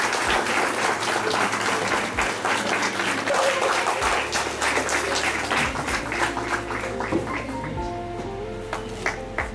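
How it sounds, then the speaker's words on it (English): A hall full of people applauds at a university award ceremony, steady dense clapping that holds for several seconds and then gradually thins and fades toward the end. "Please give a huge round of applause."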